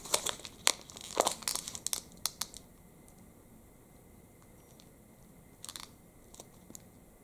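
Crinkly wrapper of a dark-chocolate-covered bar with jelly and marzipan is handled up close, with loud bursts of crackling and crinkling, then a quieter stretch and a brief second rustle.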